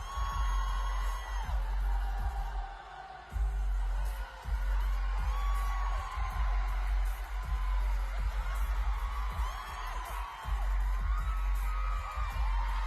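Concert crowd screaming and cheering at a show in Paris, a dense continuous roar of shrill cries with sharp bursts, loud and sustained throughout.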